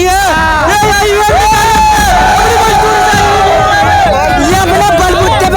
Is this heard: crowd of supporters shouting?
yes